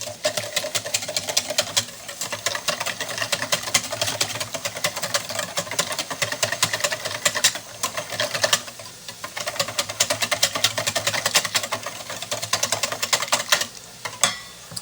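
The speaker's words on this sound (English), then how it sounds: "And whisk that until well combined." A whisk beats quiche base ingredients with salt, pepper, dill and cayenne in a bowl, a fast rattling scrape against the sides that runs nearly continuously with a couple of short breaks, close and fairly loud.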